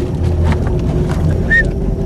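A boat engine rumbles steadily and close at hand on the water near a mangrove area, with wind and water noise mixed in over a short stretch.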